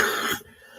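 A single harsh, close cough from an adult man, a short burst of breathy noise that cuts off abruptly into quiet.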